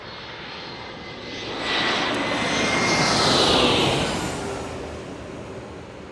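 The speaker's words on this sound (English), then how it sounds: "we have an E-175 landing right now" An Embraer E-175 jet lands at San Diego after a flight from Las Vegas, its engine roar swelling as it passes close, peaking midway, then easing off, with no voices.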